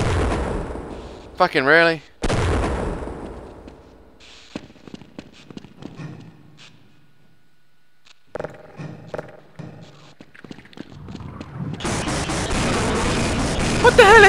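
Heavy bursts of gunfire from Half-Life ring out in loud, booming blasts separated by quieter gaps, with scattered shots between and a dense barrage near the end. Someone speaks briefly over the shooting.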